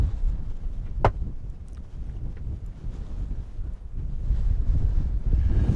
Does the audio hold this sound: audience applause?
no